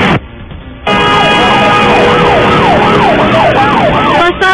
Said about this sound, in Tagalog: umalimaw ang sirena ng ambulansya sa Commonwealth, Quezon City